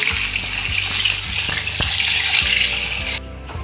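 Onions go into hot oil with whole spices for chicken kabsa, giving a loud, close sizzle and crackle with a few stirring knocks before the frying noise drops off abruptly near the end.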